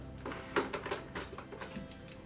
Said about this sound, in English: Whittling a rubber.